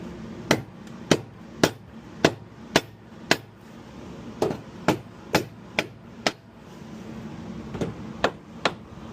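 A hammer taps repeatedly on the engine case cover of a Honda TRX90 during a clutch replacement, sharp evenly spaced strikes in two bursts with a short pause between them.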